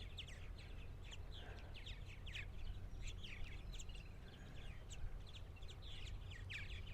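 Purple martins fly in over eastern Long Island, New York, a dense steady stream of chirps and twittering calls overlapping throughout, moderately near, over a low constant background rumble.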